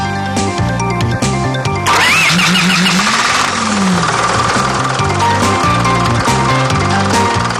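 A Mercedes-Benz OM 904 engine cranks and catches about two seconds in, then runs loud and steady with a dense, continuous mechanical drone.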